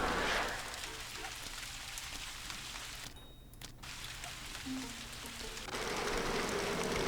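Rain cast as a spell in the Ghost Master video game falls as a steady, soft hiss of downpour that drops out briefly partway through before returning, with no other sounds.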